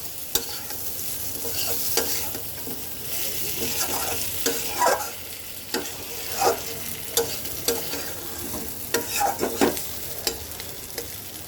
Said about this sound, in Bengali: এটাকে সুন্দর করে মশলাটাকে আমি কষাবো